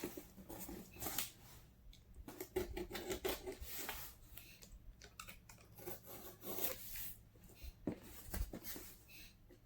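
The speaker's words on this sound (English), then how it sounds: "So I'll get out the trusty box cutter here" Box cutter slicing through packing tape on a cardboard subscription box, a quiet series of scraping, rasping strokes and soft crackles with brief pauses between cuts.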